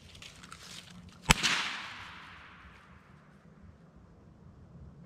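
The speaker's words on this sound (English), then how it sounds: "And just fire off a couple rounds." A single sharp .22 rifle shot cracks out in the woods, loud and close, followed by a long fading echo rolling through the trees, with quiet forest ambience around it.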